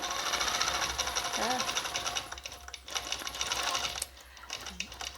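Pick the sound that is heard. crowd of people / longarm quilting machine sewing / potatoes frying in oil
longarm quilting machine sewing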